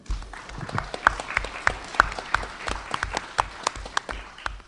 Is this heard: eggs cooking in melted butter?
no